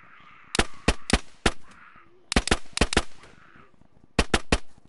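Sharp, close gunshots in DayZ come in quick bursts of three to four rapid cracks, separated by brief pauses, with faint ambient noise between the volleys.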